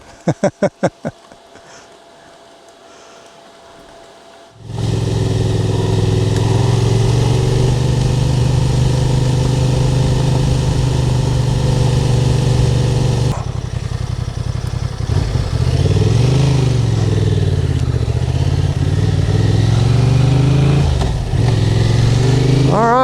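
A Honda Transalp motorcycle engine starts up loud and close, idling roughly, then revs up and down repeatedly, with a brief clatter before it starts.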